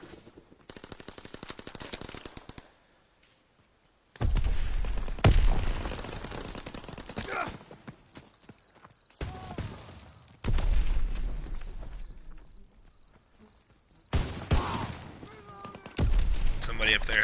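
Gunfire crackles through a WWII video game battle in repeated loud bursts separated by short lulls, with shotgun blasts mixed into the volleys and voices talking over parts of the fighting.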